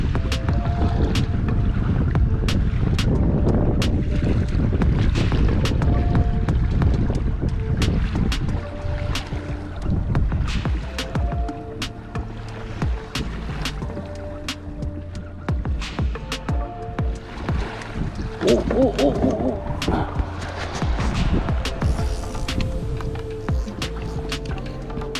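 A fishing boat sets out from a launch near Pine Island, Florida, after a hurricane, its engine droning steadily with heavy wind buffeting the microphone throughout.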